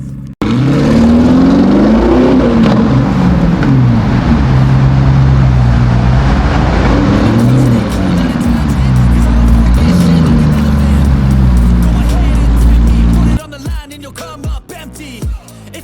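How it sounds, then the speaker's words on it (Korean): Porsche Cayenne Turbo GT fitted with an Akrapovic exhaust, driving with a loud, sustained engine roar that rises and falls through repeated revs and gear changes close by, easing off near the end. "와 배기음 진짜 멋있게 잘 나옵니다 자 그럼 짧고 굵게 주행 영상 가보겠습니다"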